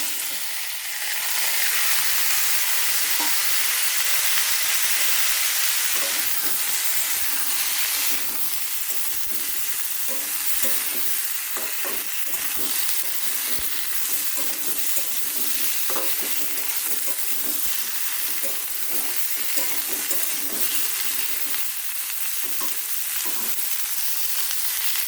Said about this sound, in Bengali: তেল গরম হয়ে গেছে, এর মধ্যে এখন আমি রাঁধুনি ফোড়ন দিয়ে দেবো। আগে থেকে যে পেঁপে আর আলু কেটে রেখেছিলাম সেটা দিয়ে দেবো।